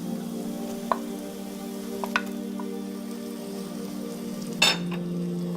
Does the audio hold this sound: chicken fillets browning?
yes